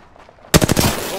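Burst of automatic gunfire in the video game Apex Legends erupts suddenly after near silence, several rapid loud shots in quick succession, close.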